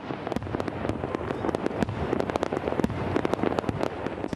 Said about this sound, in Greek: Τα πυροτεχνήματα της πρωτοχρονιάς με φώτο την Ακρόπολη ταξίδεψαν μέσω των δορυφόρων σε ολόκληρο τον κόσμο.